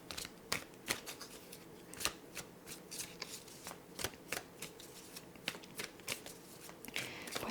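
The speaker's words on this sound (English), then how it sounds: "I will now draw some tarot cards for you to see what other changes you need in" A deck of tarot cards is shuffled up close in a quiet room, with crisp snapping card strikes every half second or so over a continuous papery rustle.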